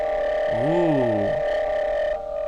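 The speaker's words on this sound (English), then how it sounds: "that's giving it some real like distortion and fuzziness" Steady tone run through a distortion plugin in Logic Pro X, a constant fuzzy drone with a brief swooping vocal-like sweep in the middle, loud and continuous, cutting slightly near the end.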